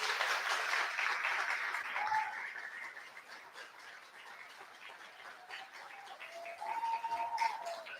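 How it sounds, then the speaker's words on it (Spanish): Applause from a church congregation during a service, loudest over the first few seconds and then thinning, with faint tonal sounds drifting through the background. "pido un aplauso de honra para él"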